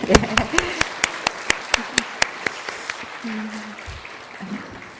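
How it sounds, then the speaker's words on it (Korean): A church congregation claps after a worship performance with guitar. There is a run of distinct handclaps at first, then a thinner spread of applause that fades. Voices murmur faintly underneath. "한 번 더 격려와 감사의 박수를."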